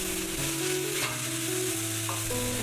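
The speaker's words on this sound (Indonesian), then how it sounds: "Tumis kecambah bersamaan bumbunya hingga tercampur dan tentunya udah matang" Bean sprouts stir-fried together with ground spices in a hot pan, a steady close sizzle and crackle with faint stirring, no voices.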